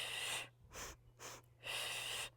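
Three slow breaths during a mat Pilates exercise, long airy exhales and an inhale through the mouth, close and soft, with no talking.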